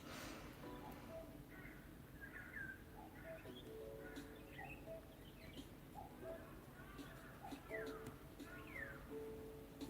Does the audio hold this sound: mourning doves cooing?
yes